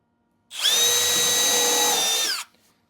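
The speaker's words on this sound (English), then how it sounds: "I'm putting my drill bit in line with the bottom, holding it straight parallel with where I want it to drill." A power drill bores into the floor piece of a wooden birdhouse kit during assembly, one steady high-pitched whine lasting about two seconds that starts and stops abruptly, loud and close, with no talking.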